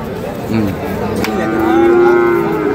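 A Desi Sahiwal bull at a Bangladeshi cattle market before Eid sacrifice gives a loud, close, drawn-out moo that rises and holds, over crowd chatter and market noise.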